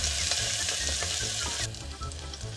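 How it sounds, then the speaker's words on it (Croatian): Onion frying in a pan for a spring green shchi soup, a steady close sizzle with light stirring ticks that drops off abruptly partway through, leaving a low hum and quieter crackle. "Zlatno pravilo je da prvo na prženje ide luk i pržimo ga dok ne postaje staklast"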